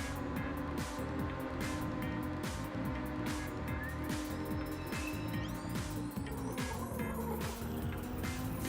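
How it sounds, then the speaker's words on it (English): Cars drift and slide during a Ridge Racer Type 4 race, with steady engine drone and faint tire squeals heard alongside the constant motor noise and game sound. "I hear them drifting in the back."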